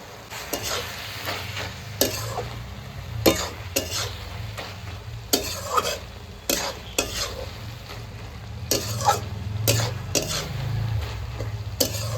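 Fried shrimp are stirred into rice pumpkin cooking in a pot, with irregular loud clacks of a utensil against the metal rim over a low, steady simmering sizzle; no one speaks.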